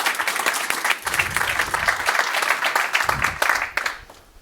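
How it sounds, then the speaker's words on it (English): Conference audience claps for a speaker at a talk on encryption, a crowd of hands applauding steadily with a couple of brief low murmurs, then fading out toward the end. "A big round of applause for Andy"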